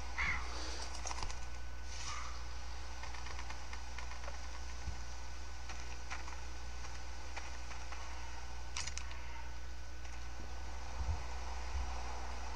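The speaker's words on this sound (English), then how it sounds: "Is that a bird?" In The Walking Dead video game, a crow caws a few times off in the distance over a constant low ambient hum, faint and sparse, with occasional small clicks and no voices.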